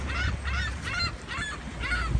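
Gull-like bird calls at a windy lakeshore at Houghton Lake, a series of about five honking, squawking cries at moderate distance over low wind rumble.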